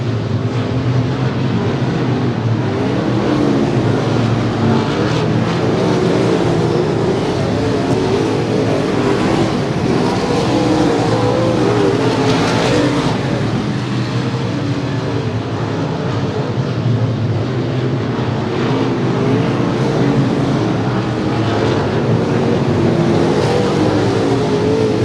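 Race cars lapping at Willamette Speedway, a dense continuous engine roar from a pack of cars running low around the turns, loud and unbroken for the whole stretch, heard from the stands with no voices.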